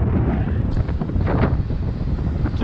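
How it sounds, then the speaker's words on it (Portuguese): Strong wind roars steadily over the microphone throughout while cycling across a bridge in Florianópolis on a rented bicycle, a dense, rumbling buffet with no pauses and no voices. "Agora tá tanto vento"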